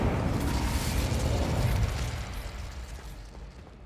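An Incendio fire spell blast in Hogwarts Legacy, a broad, loud roaring whoosh that holds steady for about two seconds and then slowly fades out, with no speech over it.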